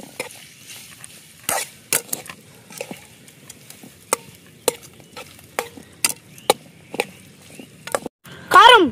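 Chicken frying in a pan, with repeated sharp scrapes and clatters of stirring over a low sizzle and a louder burst of stirring near the end.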